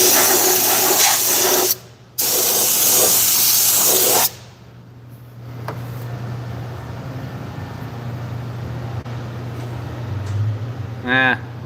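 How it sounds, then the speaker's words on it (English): Aerosol spray hisses in close bursts onto a 2006 Lincoln Town Car transmission output shaft seal area, a short one then a longer blast, followed by quieter rustling and handling noises. "Spraying on everything."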